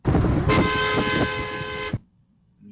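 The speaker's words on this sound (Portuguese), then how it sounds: "Vocês identificarem a buzina. Faz aí. O carro pela buzina." A loud, steady Fiat Tempra car horn blares for about a second and a half, starting abruptly and cutting off into near silence.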